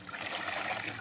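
A small amount of water pours in a brief, steady trickle, close and fairly soft, with no talk over it.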